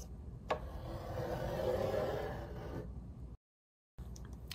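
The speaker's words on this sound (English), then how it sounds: "we're going to take our 12 by 12 piece of cardstock and we're going to score at 1 inch," A 12 by 12 inch cardstock sheet being scored for a folio card, giving a soft, steady rubbing scrape that swells and fades over a couple of seconds, close and quiet, with no talking.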